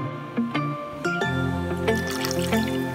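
A cupful of water is poured from a cup into a cooking pan, giving a few irregular splashes and drips that settle into a steady trickle, close by and moderately loud, with no talking.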